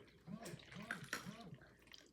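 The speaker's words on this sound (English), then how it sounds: "our water is filled up to about this point in the potion bottle" Water pours through a funnel into a glass potion bottle, a soft, quiet trickling and splashing that lasts about two seconds, with a voice audible over it.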